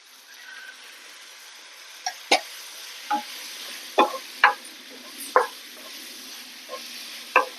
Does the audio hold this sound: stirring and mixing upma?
yes